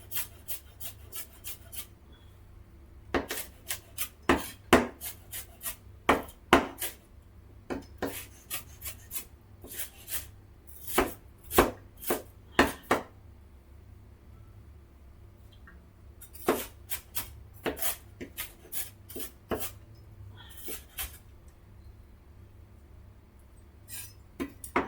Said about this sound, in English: This is not how you want to chop onions